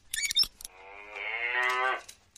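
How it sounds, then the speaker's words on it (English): A single drawn-out cow moo rises and swells for about a second and a half, clear and close, preceded by a few short clicks. "like wooden cows that mooed"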